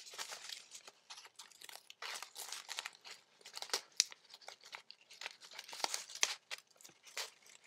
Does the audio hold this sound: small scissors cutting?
yes